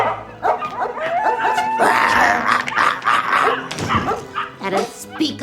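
Small dog yipping, whimpering and barking in short bursts, close and loud, mixed with overlapping talk in a comedy scene.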